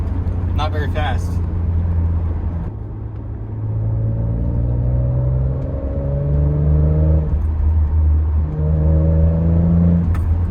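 A Lexus IS300 with a swapped 2JZ engine and W55 manual transmission drives along, its engine droning and rising in pitch through the gears, with breaks between shifts and a steady cabin rumble; a brief voice sounds near the start.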